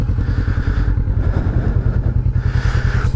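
A 2020 Kawasaki Vulcan S Performance motorcycle with an Arrow Performance exhaust idles close by with a loud, even, pulsing rumble throughout.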